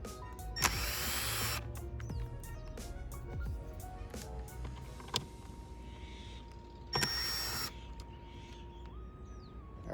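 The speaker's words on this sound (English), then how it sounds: "So you're going to need a T10 bit to remove it." On a Mercedes-Benz C300 W204, a power driver with a T10 bit backs out side mirror bolts in two short whirring bursts, one early and one later, over a quiet background.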